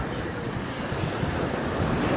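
Rough sea surf breaking on an Algarve beach, a continuous roaring wash of waves mixed with wind buffeting the microphone, close and fairly loud with no pause.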